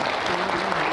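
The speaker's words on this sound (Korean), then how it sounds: "서진웅 작가님을 그 어느 때보다 뜨거운 박수와 뜨거운 환호로 무대로" A packed book-launch audience bursts into loud, continuous applause and cheering as author Seo Jin-woong is welcomed onto the stage, with dense clapping filling the whole moment.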